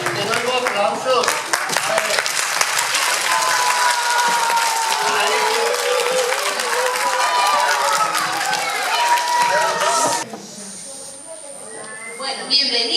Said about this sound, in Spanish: Ay, eso sí, te doy aplausos.